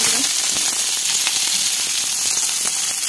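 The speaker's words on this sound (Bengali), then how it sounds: "কড়াই গরম হয়ে গেছে, এবার ফোড়নটা দিয়ে দিলাম।" Spices tempered in oil in a hot wok crackle and sizzle loudly in a constant, bright hiss with scattered pops.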